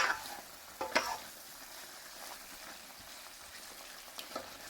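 Chicken vindaloo cooking in restaurant-style base gravy, a soft continuous sizzle and bubbling with a couple of stirring scrapes and clinks near the start, fairly quiet and without speech.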